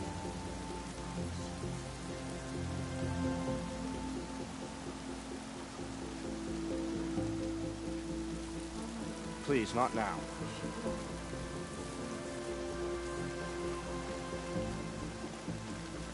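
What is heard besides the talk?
rain falling in video game Horizon Zero Dawn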